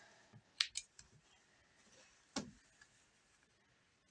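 Scissors snipping apart chain-pieced quilt fabric, a few quiet separate cuts with soft clicks and rustles, no talking.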